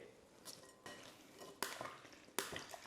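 Soft clinks and scrapes of a utensil against a bowl as sliced pan-grilled liempo is tossed with cucumber, tomato, red onion and chili, in a few separate stirring strokes, quiet and close.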